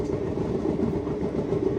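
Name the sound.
train running through snowy Kashmir, Srinagar to Banihal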